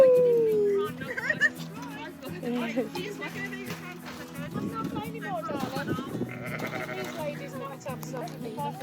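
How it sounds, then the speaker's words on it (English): Goats at a petting zoo, including a small baby goat, give several short bleats close by, mixed with other animal calls and people talking throughout. "Look at the baby goat."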